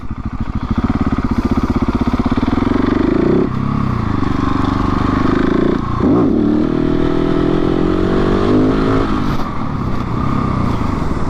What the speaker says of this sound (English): let's pull one proper wheelie